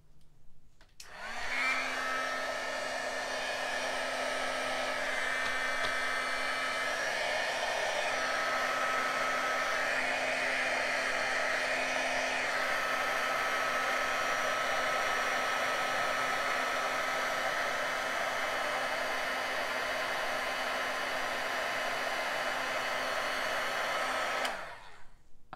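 Heat tool blowing hot air to melt embossing powder, a steady loud whirring hum with a constant tone that runs unbroken for over twenty seconds, then cuts off.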